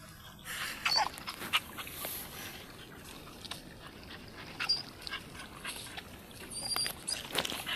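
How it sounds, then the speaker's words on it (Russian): A friendly dog close by makes soft snuffling and whimpering sounds in short, quiet bursts over a faint background. "Очень добрая эта собака"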